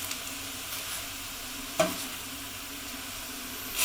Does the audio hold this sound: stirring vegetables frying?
yes